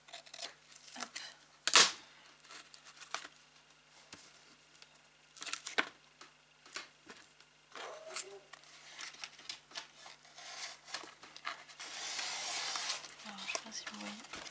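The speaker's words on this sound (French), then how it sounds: "là je vais couper" Paper being cut with scissors for an advent calendar structure, with scattered snips and crinkles, one sharp loud crack early on and a rougher hiss later, under a voice talking throughout.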